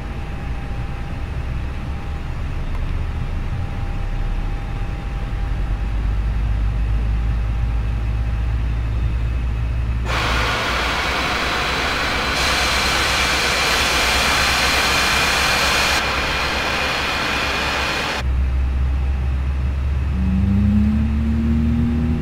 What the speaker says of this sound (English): You can start the engines in sequence.